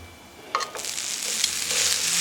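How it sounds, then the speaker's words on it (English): Bread laid into a smoking-hot pan with tongs, a sizzle rising at about half a second and growing into a steady, close frying hiss that fills the rest of the moment. "Place the bread in the pan, just use a pair of tongs so you don't burn yourself."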